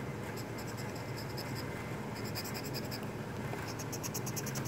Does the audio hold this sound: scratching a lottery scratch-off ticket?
yes